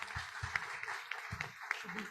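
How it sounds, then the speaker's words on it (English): A small audience at a business talk on HR leadership claps for the panel members, a brief, faint patter of scattered hand claps lasting about two seconds. "So a big round of applause for the panel members,"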